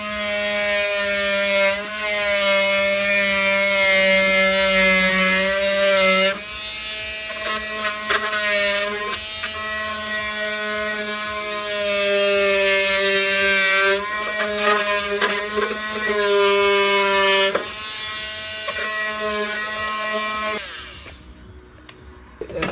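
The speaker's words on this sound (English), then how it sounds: "we are using an oscillating tool in order to actually use it to scrape off all the adhesive at the bottom of the van" An oscillating multi-tool scraping adhesive off the metal floor of a van gives a steady, loud, high buzzing drone that holds for long stretches, stops briefly and starts again, then cuts off near the end.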